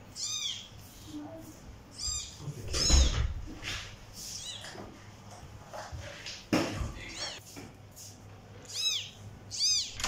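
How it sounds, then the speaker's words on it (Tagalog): A mother cat meows in short, repeated calls spread across the stretch, nearby and moderately loud, with people talking quietly and household bumps around them. "What a cat."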